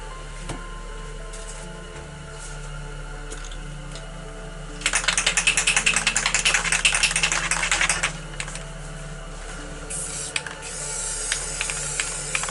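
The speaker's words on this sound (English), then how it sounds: "I'm going to take white, I'm going to mist along the bottom" A white spray paint can hisses in a sustained burst of about three seconds, with rapid rattling pulses, then a fainter spray follows after a pause.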